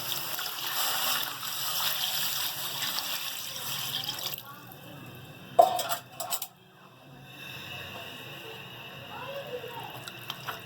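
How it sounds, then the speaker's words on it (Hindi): Water is poured from a bowl into a pot of beef for a beef karahi, a splashing burst in the middle amid kitchen clatter of pots and utensils, with a faint running tap and room noise around it. "अब हम इसमें ये पानी डालेंगे।"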